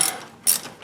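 A ratchet with an 8mm socket undoing a caliper bolt on a Victory motorcycle's rear brake, two short bursts of rapid clicking pawl action, close and clear with no talk.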